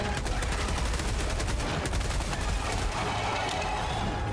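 Dense, continuous rapid gunfire in Helldivers 2, loud and close with no pause across the whole stretch.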